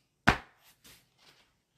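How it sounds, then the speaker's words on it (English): A single sharp chop like an axe striking a tree rings out, followed by a few faint, softer knocks, representing the felling of truffula trees. "To the sound of the chopping of truffula trees."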